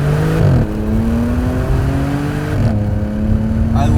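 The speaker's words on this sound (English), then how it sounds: "this dual clutch makes awesome sounds out of the exhaust, little burbles here and there on the upshifts and downshifts" Supercharged Audi S5 with a dual-clutch gearbox, heard from inside as the engine climbs through steady revs, drops sharply on two quick upshifts and lets out a crackling exhaust burble at the end.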